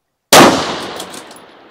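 A single loud crack from a Tikka 6.5 rifle fired at steel targets, with a sharp onset and a ringing tail that fades over about a second and a half, heard alone.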